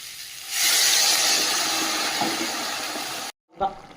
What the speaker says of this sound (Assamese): এতিয়া ইয়াতে মই পানী যোগ কৰি দিম